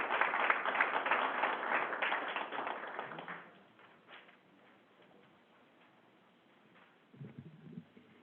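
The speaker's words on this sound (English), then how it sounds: "How about another round of applause?" An audience at a school board meeting gives a round of applause that is dense and fairly loud for about three seconds, then fades to scattered faint claps, with a brief low voice near the end.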